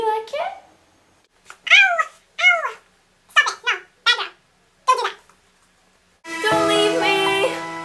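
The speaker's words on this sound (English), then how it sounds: "How to get along with evil cats." A cat meows several times in short, separate, fairly loud calls, followed by a burst of bright music at the end.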